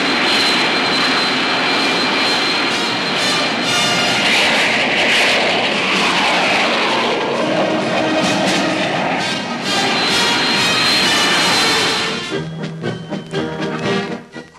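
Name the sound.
military jet aircraft flying, F-5, F-86, T-33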